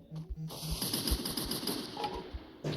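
AK rifle fire in a battle royale video game rattles out as a fast, rapid-fire burst of evenly spaced shots lasting about two seconds, mid-loud and close, with a few single shots before it and a faint voice in the background.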